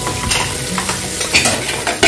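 Bananas frying in a pan hiss and sizzle steadily up close, with a few louder crackles and spatters near the end and no voices.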